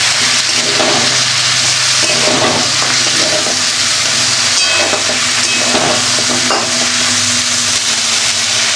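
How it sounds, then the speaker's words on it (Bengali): Drumstick vegetable pieces go into a hot pan of spicy curry masala and sizzle loudly and steadily. The hiss is continuous, with small stirring scrapes over it and no talking. "এবার আমি সজনে ডাঁটাগুলো দিয়ে দিলাম।"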